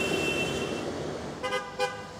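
Car horns honk at a street peace protest against war, two short blasts sounding in quick succession over steady roadside traffic noise.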